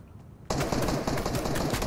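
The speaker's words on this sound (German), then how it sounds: "Da wird er schon wieder auf mich geschossen." Sudden sustained automatic video game gunfire aimed at the player, starting abruptly after a quiet moment and continuing as a loud, dense rattle of rapid shots.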